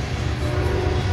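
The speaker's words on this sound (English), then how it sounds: "He's just watching the train." A train rolls past close by, a steady continuous low rumble with a faint tonal hum holding at an even level throughout, with no talking.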